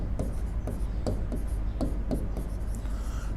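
Chalk or marker writing on a classroom board during an English grammar lesson, a series of short rhythmic strokes and taps spaced about half a second apart, close and clear without speech.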